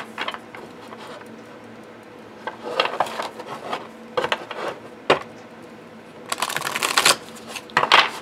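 Large oversized tarot cards being side shuffled, bursts of soft papery riffling and rubbing that come in uneven waves, louder and denser toward the end, with no talking.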